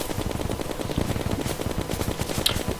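Rapid automatic gunfire from a ranged weapon in the video game Terraria, a dense continuous stream of shots at steady loudness with no talk over it.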